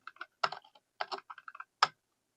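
Several quick keystrokes tap on a computer keyboard in short irregular bursts, close and clear against a silent background.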